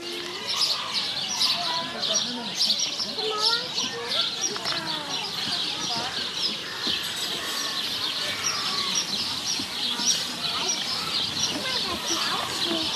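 Many birds chirp and tweet continuously, a dense, lively chorus of calls filling the air, with faint background voices underneath.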